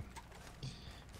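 Faint horse hooves clop along in the online western game Red Dead Online, a quick, quiet run of hoofbeats over a low background rumble.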